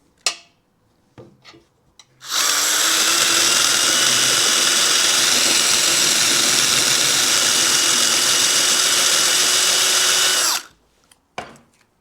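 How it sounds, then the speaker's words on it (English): Power drill boring through frame spot welds on a 1980 Suzuki RM 400 motorcycle, a loud continuous grinding whine lasting about eight seconds, framed by brief clanks and handling knocks before and after. "I had to drill it from the other side"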